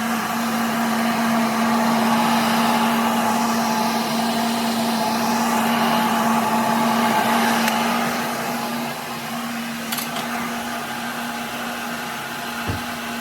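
A heat gun blows hot air steadily across vinyl upholstery on the seats of a 1970 Ford F-100 in a trim shop, a continuous close whooshing drone with a steady hum that eases slightly near the end.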